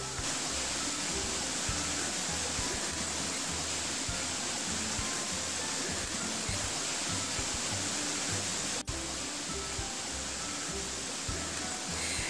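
A waterfall on a trail in Roccamonfina regional park, a volcanic area in Italy, roars as a constant, dense rush of falling water, loud and unbroken throughout.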